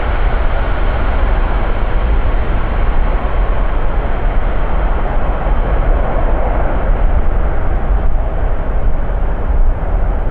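A jet airliner taking off from runway 36L at Amsterdam Schiphol Airport, a loud, steady, broadband engine roar that fills the whole stretch with no break, heard alone without voices.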